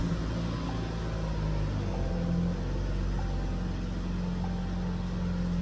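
Gasoline car with diesel fuel in its tank idling after starting, a low steady engine drone with faint periodic ticks, continuous and without speech.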